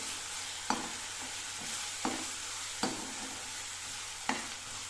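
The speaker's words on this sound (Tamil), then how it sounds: "இஞ்சி பூண்டும் நல்லா பச்சை வாசனை போகணும், அந்த அளவுக்கு வதக்கிக்கணும்" Ginger garlic paste and onions sautéing in a pan give a steady sizzle, broken by four sharp spoon scrapes against the pan at irregular intervals, with no talking.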